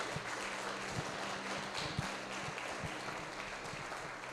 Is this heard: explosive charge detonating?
no